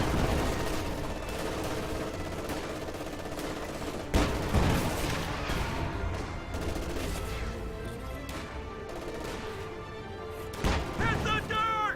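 Machine guns fire during a video game battle, rapid bursts and sharp shots cracking over a dense, noisy din of combat with occasional heavier impacts.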